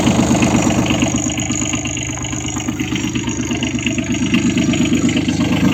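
A Kubota B52 tractor's diesel engine idles steadily close by, a continuous even rumble with a fast regular chug and no voices over it.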